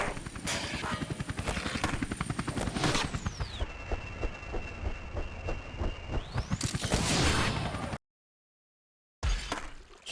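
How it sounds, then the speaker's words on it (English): Helicopter in a Tony Hawk skateboarding video game, rapid rotor thumping loud and close with a pitch swoop as it passes, cutting out briefly to silence before resuming. "Do not get chopped up by the helicopter."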